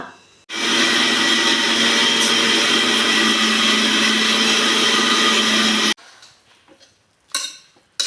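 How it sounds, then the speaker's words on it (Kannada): Mixer grinder whirring loudly as it grinds coconut masala, a steady motor roar of about five seconds that stops abruptly, followed by a few clinks of the jar and lid. "ತೆಂಗಿನಕಾಯಿ ಅದನ್ನೀಗ ರುಬ್ಬಿ ತರ್ತೇನೆ ಮಸಾಲ"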